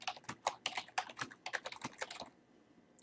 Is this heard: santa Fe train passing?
no